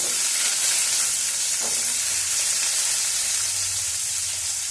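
About ten small onions fry in a pan for a Tamil drumstick-leaf thuvaiyal, producing a continuous dense sizzle and hiss that stays fairly loud and even throughout.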